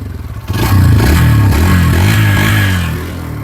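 A Hero Xtreme 160 4V motorcycle engine revs up and holds a deep, bassy drone close by, with a slight fade near the end.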